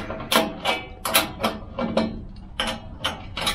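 A 5/16 wrench loosens the side panel bolts on a Harman pellet stove, making a run of about eight sharp, evenly spaced ratcheting clicks close by.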